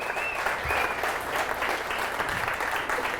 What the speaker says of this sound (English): How about another round of applause for Anna?